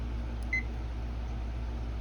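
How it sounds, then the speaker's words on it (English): A kitchen timer gives a single short, clear electronic beep as it is set, over a low steady background hum. "Let me turn the timer on."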